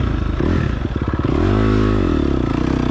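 Fuel-injected motorcycle engine revved loud and close, the throttle blipped in quick stuttering bursts before rising into a sustained higher rev and settling back, with no speech.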